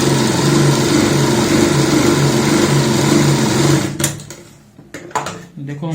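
A sewing machine runs steadily and loudly for about four seconds while stitching pin tucks on a kurti neck, then stops with a few short handling clicks and rustles.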